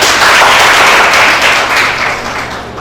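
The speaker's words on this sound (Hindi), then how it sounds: "और ताली मारो इसको।" A crowd claps loudly and steadily for a student at a health and sanitation awareness programme. The dense applause lasts throughout, gradually thinning toward the end.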